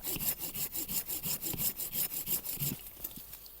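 A hand saw cuts through a small Chinese privet trunk in a steady back-and-forth rhythm, close and rasping, with strokes stopping near the end.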